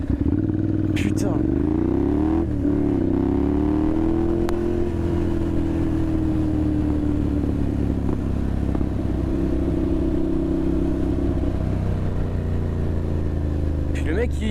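A motorcycle engine runs loud and close, its pitch swooping up and down in a couple of throttle blips before settling into a steady drone, with a few clattering knocks on top.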